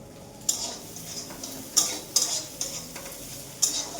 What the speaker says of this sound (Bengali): আমি ডিমের ভুজিয়া করে দিচ্ছি